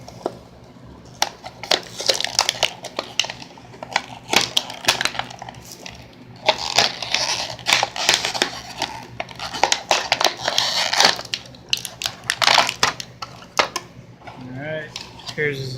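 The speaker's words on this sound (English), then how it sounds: "obviously the bubble is all busted up, so let's go ahead and crack this baby open" A busted plastic bubble on Star Wars figure packaging is cracked open, giving irregular crackling, crinkling and snapping bursts at close range, mixed with handling rustle, while a person talks at times.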